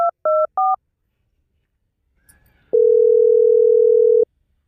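Three short beeping tones of a phone keypad, a brief pause with a faint rustle, then a long steady electronic tone.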